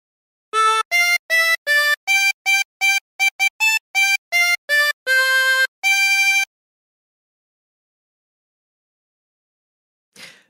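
A 24-hole tremolo harmonica plays the Jingle Bells melody as a run of short blown notes, then a longer held phrase, loud and alone, followed by silence and a faint brief sound near the end.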